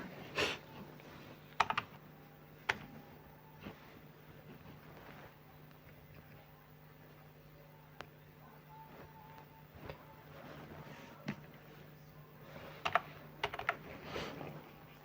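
Fingers type on a computer keyboard to enter a one-time passcode, a quiet, scattered run of separate key clicks with pauses between them, and a few sharper taps near the end.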